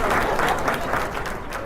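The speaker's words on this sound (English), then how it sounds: "y'all can clap for me" An audience at an urban league workshop presentation applauds, a dense wash of many hands clapping at once that carries on steadily and eases slightly toward the end.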